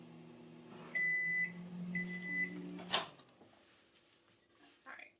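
A microwave oven heating butter, a low steady hum with a few electronic beeps, then a clunk and rattle as the door opens, quiet and close, fading to faint room noise.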